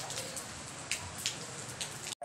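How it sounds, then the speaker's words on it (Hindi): Heavy rain pours in a dense, close hiss of drops hitting a surface, with a few louder splashy taps, before cutting off abruptly at the very end. "इतनी होर पे तेज हो रही है यार"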